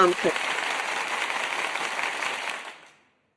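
A burst of clapping from a group, steady and dense for nearly three seconds before fading out quickly.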